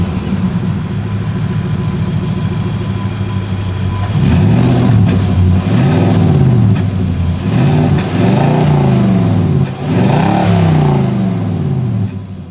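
A 2023 Nissan Titan PRO-4X pickup idles with a deep exhaust rumble, then is revved up several times in rising and falling surges, loud and close.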